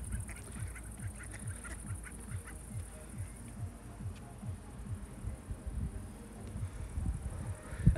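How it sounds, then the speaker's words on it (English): A large flock of ducks calls at dusk, with many soft, rapid, overlapping quacks and honks coming steadily from a short distance and growing a little busier toward the end. "and we have ducks, like a lot of them."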